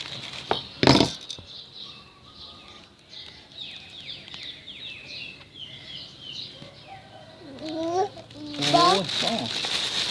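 Chickens cluck on a rainy morning, with a series of quick, rising chirpy clucks coming in two clusters at moderate distance and occasional sharp knocks nearby.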